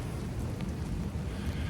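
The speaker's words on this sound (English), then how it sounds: "So it is definitely raining." Steady rain falling outdoors during a marathon run at Disney World, a dense even hiss of drops on surfaces with no voices.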